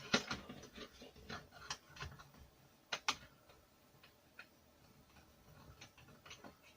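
Screwdriver turning an FP screw into a metal part of a DeLorean scale model, a quick series of small dry clicks and ticks at an irregular pace, close and quiet, with no talking.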